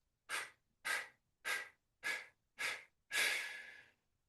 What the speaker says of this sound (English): Exhaling, 7-part exhale out the mouth.